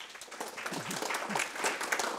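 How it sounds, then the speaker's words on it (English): An audience at an architecture and city event claps briefly and moderately, with a speaker's voice heard over the applause. "A warm applause for Anna"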